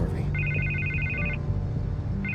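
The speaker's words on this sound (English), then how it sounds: "I can't get the phone to stop ringing" A telephone rings in a rapid electronic trill over low background ambience in Batman: The Telltale Series, one long burst followed by the start of another.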